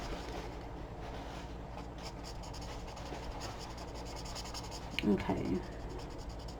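An Aspire color marker with a bullet nib draws on paper, making steady close scratchy strokes throughout, with a brief word spoken near the end.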